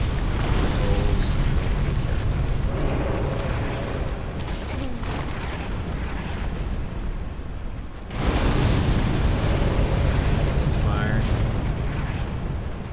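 Missile explosions in the video game Dark Souls: loud, sustained rumbling blasts with crackling bursts. The roar dips briefly near the middle, then surges back just as strongly.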